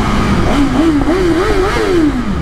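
A new BMW S1000RR sport motorcycle engine revs up and down in rising and falling sweeps, loud and close, with no talking.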